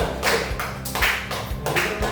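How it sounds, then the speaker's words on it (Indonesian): A class of students clapping together in a steady rhythm, with sharp, loud bursts of applause repeating roughly every three-quarters of a second. "Beri tepuk tangan untuk kita semuanya."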